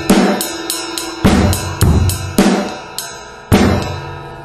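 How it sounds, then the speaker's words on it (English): Drum kit groove played slowly on a bass drum and snare drum, with sharp, loud hits in a steady repeating pattern broken by short rests and ringing cymbal-like decay, with no talking. "you've got bass drum by itself, then snare drum, then rest."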